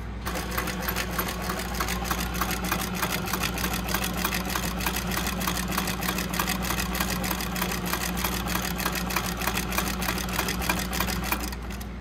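A sewing machine stitches steadily around the tight curve of a crossbody bag, its fast even motor hum and needle clatter running close and loud without pause, with no talking.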